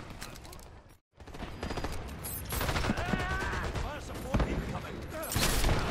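Sniper rifle fire in the Dirty Bomb shooter game crackles amid a busy firefight, sharp gunshots, mechanical reload clicks and scattered battle noise, with a player talking over the action.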